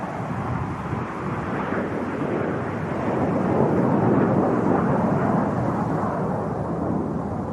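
Red Arrows display jets flying over Goodwood, heard as a broad, continuous roar that swells slightly midway and stays loud and distant-sounding throughout, with no voices.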